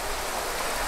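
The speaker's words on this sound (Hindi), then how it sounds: "बारिश आ रही है अभी फिलहाल।" Steady rain falls outdoors, a continuous even hiss heard alone for under a second with no voices.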